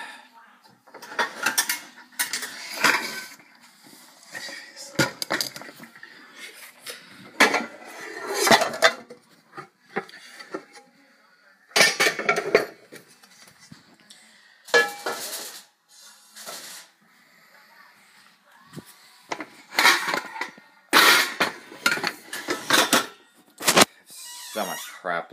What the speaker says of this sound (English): The next thing I'm going to do is get the skillet out.